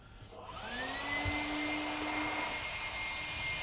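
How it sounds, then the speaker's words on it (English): AB Racing dual electric engine cooling fans spin up from quiet to a steady, loud whirring roar with a rising motor whine, then hold constant nearby. "So I'm going to plug them in real quick and I'll show you just how loud they are."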